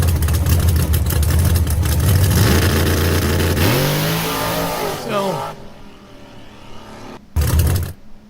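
A car engine revs hard and accelerates, loud and close with rising pitch sweeps, then cuts off abruptly before a brief final roar; someone speaks over it.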